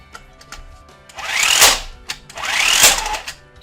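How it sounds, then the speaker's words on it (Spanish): Electric impact wrench running in two bursts, each a rising whine with rapid hammering clatter that swells and cuts off, close and loud, separated by short pauses with light handling clicks. "como vemos, de momento la pistola funciona"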